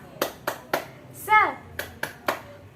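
A small group of children does a rhythmic 'tepuk semangat' spirit clap: sharp claps in a steady pattern with a brief chanted or sung burst in the middle, close and fairly clear in a quiet room.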